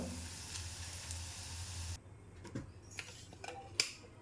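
Sliced onions fry into beresta in hot oil with a steady, soft sizzle and hiss. The sizzle cuts out halfway, leaving faint clinks and taps of the pan being handled.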